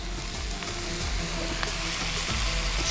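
Vegetables for a milky Turkish celery soup sauté in a pan, giving a constant soft sizzle with faint stirring, low and steady, without voices.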